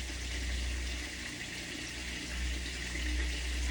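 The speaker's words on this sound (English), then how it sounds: "right now, I got some small bubbles in my water" Water heating in a pot on a stove ahead of cooking pork chops, with a steady hiss and faint simmering bubble texture, close and continuous, without any talking.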